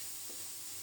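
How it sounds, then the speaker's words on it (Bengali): Chopped tomatoes hit hot oil with dried fish in a pan, giving a steady, close, hissing sizzle of frying throughout this brief moment, with no voices. "এখন দিলাম কেটে রাখা টমেটো।"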